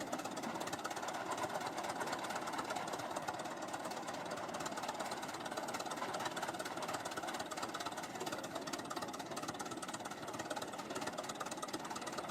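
An antique Holt 75 tractor engine runs after a cold start, a steady rapid knocking chug held at an even level throughout with no talk.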